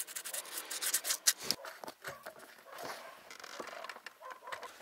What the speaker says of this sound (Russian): Сейчас зачистим вот эти контакты, ну, где идет соприкосновение, наждачкой просто.